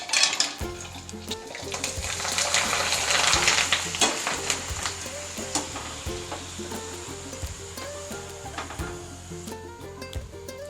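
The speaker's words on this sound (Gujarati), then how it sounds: "હવે આપણે ભૂગળ તળી લઈશું" Bhungla snacks sizzle and crackle in hot oil on a full gas flame, a steady frying hiss with occasional stirring clinks, close by and without talking.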